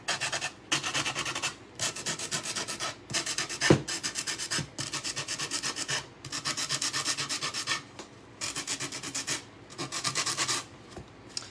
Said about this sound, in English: I'm just sanding it in a few of the places where it goes back to the wood.